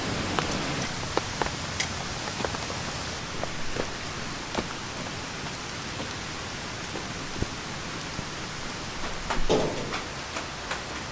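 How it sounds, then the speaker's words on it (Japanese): Rain falls steadily on a solo campsite with a new tent, a soft, even hiss broken by scattered sharp drips and taps, fairly quiet and with no talking. "雨だ。"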